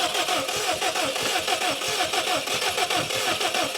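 A Subaru STI drag build, sitting for years, cranks hard with a rapid rhythmic starter chatter and sputtering engine bursts, loud and close throughout.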